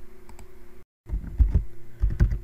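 Typing on a computer keyboard, close and fairly soft, with a brief pause and then irregular clusters of key clicks.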